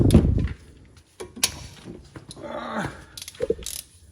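A torque wrench works on the front brake caliper bolts of a 2010 Town and Country, giving short bursts of ratcheting clicks and metallic knocks separated by quiet pauses, all close to the microphone.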